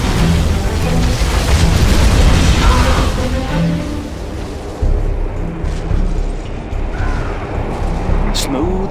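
Particle cannon superweapon firing in Command & Conquer Generals, a loud sustained booming, rumbling blast lasting several seconds with dense low-end energy and a sharp pop near the end, mixed with game effects and announcer voice lines.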